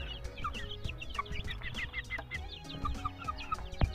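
Ganoy Cobra chickens, a 20G breed, cluck repeatedly at close range, with overlapping soft calls and scratchy rustling throughout.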